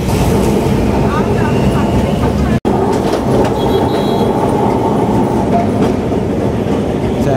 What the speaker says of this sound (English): if you're hit by a tram, whether you are a vehicle or a pedestrian, it's never the tram's fault, as the tram runs in tracts